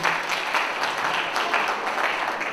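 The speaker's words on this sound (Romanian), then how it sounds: "Vă rog să o aplaudați și pe Dana." Audience applause at a folk festival competition, a steady dense wash of many hands clapping that holds evenly throughout.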